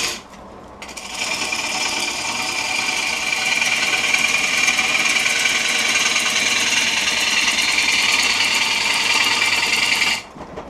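Wood lathe turning an oversized bowl blank at about 600 rpm, its motor whining in a loud, steady, rattling drone that fades away as the machine spins down.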